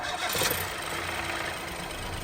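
A car engine with an overheating problem starts up nearby, catching in a brief burst and then settling into a rough, steady running rumble.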